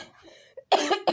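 A person sick with a cold and fever gives a faint throaty sound, then a loud, close cough in two harsh bursts.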